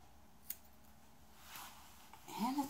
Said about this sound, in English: I'm just going to trim this little mat out.